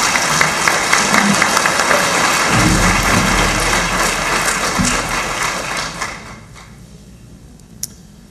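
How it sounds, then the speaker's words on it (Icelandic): An audience at a university teaching symposium applauds in a dense, steady wash of clapping that thins out and fades after several seconds, leaving a few scattered claps. "ég ætla bara að biðja ykkur að klappa fyrir sjálfum ykkur"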